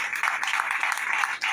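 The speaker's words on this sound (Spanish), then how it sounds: "Denle un fuerte aplauso a Dios en esta hora." A church congregation applauding, a steady wash of many hands clapping together for a couple of seconds at moderate distance.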